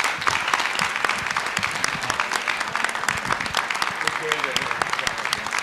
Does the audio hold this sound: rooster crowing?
no